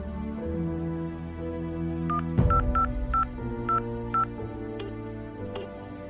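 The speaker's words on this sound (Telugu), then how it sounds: "అంకుల్కి ఫోన్ చేయాలి." A telephone number is dialed on a keypad, giving a quick run of about eight short, evenly spaced beeps. A low hum and a brief clunk sit underneath, and no one speaks.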